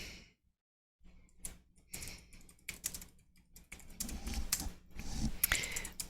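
Keystrokes on a computer keyboard patter in irregular bursts, close and fairly quiet, with brief pauses between runs of typing and no voices.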